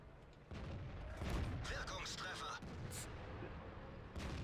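Tank cannon shots in a World of Tanks battle, heavy booming blasts with rumbling tails, several firing in quick succession over a constant engine and battle din.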